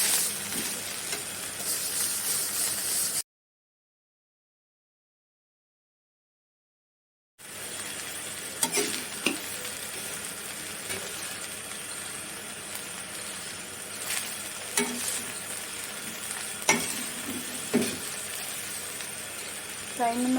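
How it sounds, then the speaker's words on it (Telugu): Gongura leaves frying in oil in a pan while being stirred and turned, a steady sizzle with scraping stirring strokes, cut off by a few seconds of silence, then resuming with occasional clicks and knocks. "గోంగూరని ఆయిల్ వేసి వేయించుకుంటున్నాను. పైకి కింద తిప్పుకుంటూ ఉన్నాను."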